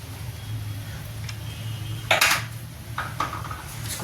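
A spoon stirring an amla pickle with chili flakes in a bowl: a few light clinks and scrapes against the dish, close and fairly soft over a low steady background hum.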